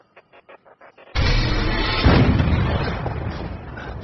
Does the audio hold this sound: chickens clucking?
no